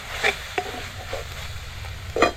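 Soybeans being stirred and tossed in a hot pan, with a low steady sizzle under a few distinct scraping stirs, the loudest near the start and again at the end.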